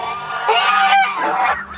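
Geese honk loudly and close by, a cluster of overlapping nasal calls lasting under two seconds in a dry farm setting.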